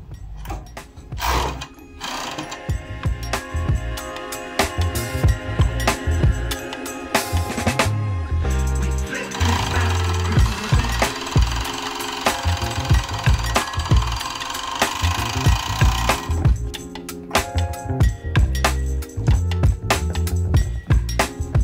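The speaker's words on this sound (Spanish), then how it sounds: "de esta manera vamos a pasar costura" Sewing machine stitching a seam through two fabric pieces placed right sides together, a steady mechanical whirr that runs almost without pause at close range, with a denser, brighter stretch in the middle and no talking.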